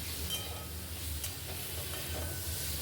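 Radish and other vegetables being stirred together in a frying pan, a steady low sizzle with scraping strokes of a spatula running throughout, close and moderately loud with no talking.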